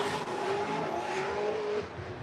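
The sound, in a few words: BMW drift car sliding through the outside zone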